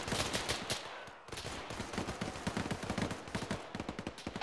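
Dense Arma 3 firefight with rapid overlapping gunfire and automatic bursts, loud and close, continuing without a break for the whole stretch.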